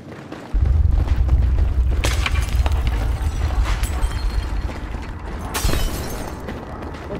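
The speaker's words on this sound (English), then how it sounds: "Someone needs to tell the OD to blow those ammo dumps further away." An ammo dump explodes in the Battlefield 3 war game, a deep rumbling boom that rolls on continuously with sharper crackling bursts layered over it, loud and sustained throughout.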